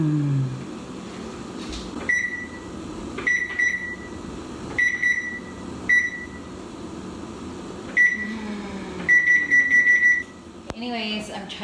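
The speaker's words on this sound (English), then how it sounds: "I'm trying to set the timer and that's it for 30 minutes." An oven timer being set for tomato soup roasting, giving a series of short, sharp electronic beeps at uneven intervals, ending in a quicker run of beeps, with someone talking between them.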